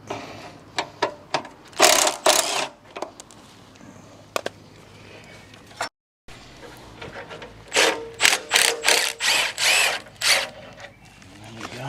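A pneumatic impact gun rattles off the two bolts holding the AC radiator on a salvage Subaru Impreza WRX front end, firing repeated loud bursts in two clusters with a short gap between.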